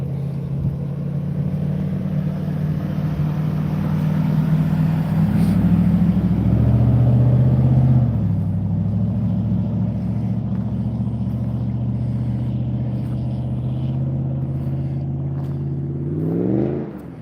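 A big, loud truck on a road in Michigan's Upper Peninsula revs hard and roars past nearby, its engine note climbing and then fading before a final rising rev at the end, heard alone without talk.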